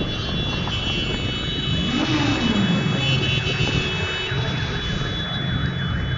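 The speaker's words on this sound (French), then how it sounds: "Voiture de police." A police car drives by in Clermont-Ferrand, a loud, continuous roar of passing traffic with a siren-like tone sweeping briefly through it, close to the listener.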